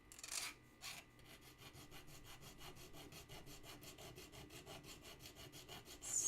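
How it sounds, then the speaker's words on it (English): A file rasps in quick, even strokes along the sides of a box clasp, a close rhythmic scraping that runs steadily throughout after two louder opening strokes, with no voices. "what I'm doing here is I'm just simply filing down the sides to do a little bit of finishing"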